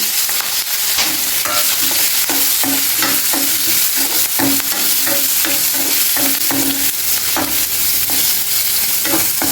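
Onions, green chillies and curry leaves fry in oil in a pan, making a constant loud sizzle with repeated rhythmic clinks and scrapes of a spoon stirring against the metal, close up.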